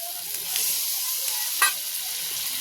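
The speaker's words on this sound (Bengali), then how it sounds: "তরকারিটা আমার কষানো হয়ে গেছে, জল ঢেলে দেবো।" Water hits a pan of sautéed potato and soybean curry, setting off a loud, steady hissing sizzle with a brief sharper burst partway through.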